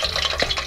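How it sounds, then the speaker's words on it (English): Soaked, hand-cut potato slices frying in oil for salt and vinegar chips, a brief steady crackling sizzle close up. "We are now frying the potatoes that have been soaking for at least, what, 30 minutes?"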